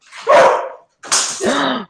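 A dog gives two loud, rough barks in quick succession, each about three-quarters of a second long, close by and with no other sound around them.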